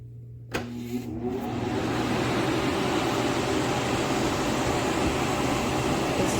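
An LZLXXLZL utility air mover blower fan switches on with a click and spins up into a steady, broadband whoosh that fills a basement, even and continuous.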